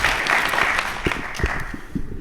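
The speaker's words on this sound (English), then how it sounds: "Marcus, everybody, round of applause." Crowd applause at a live show, a dense wash of clapping that thins out toward the end into a few scattered individual claps.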